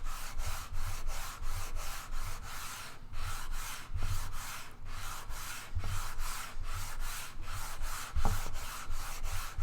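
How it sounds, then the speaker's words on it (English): Wood on a guitar build is sanded by hand in steady, rhythmic back-and-forth strokes, close and fairly loud, with a few brief pauses and occasional light knocks, and no voices. "I'm still sanding."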